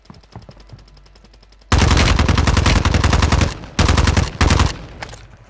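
Call of Duty gunfire: after a quieter stretch, loud automatic weapon bursts erupt and rattle on in long sustained volleys broken by brief gaps.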